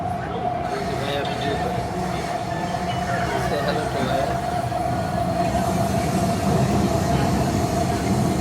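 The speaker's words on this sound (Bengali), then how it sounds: "ওকে, আমরা এখন এমআরটি ট্রেনে।" A Kuala Lumpur MRT metro train running, heard from inside the carriage: a loud, steady rumble with a sustained whine, faint rail clatter and squeal, and voices talking over it.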